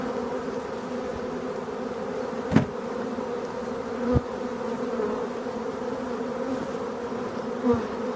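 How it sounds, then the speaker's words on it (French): A swarm of honeybees hums steadily and densely at close range, an evening swarm that has settled in nettles, with a few faint knocks over the continuous buzz. "je vous laisse avec les abeilles"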